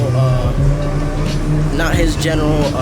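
A straight-piped Porsche Cayman rumbles with a steady low engine drone close by while people talk over it.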